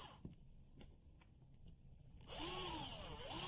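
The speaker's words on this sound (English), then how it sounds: "he's saying that you actually drive 2 screws into the plug." A cordless power drill driving deck screws into a hole-saw plug: a few faint clicks and taps, then a loud, close motor whine that rises and dips as the screw bites, with no speech.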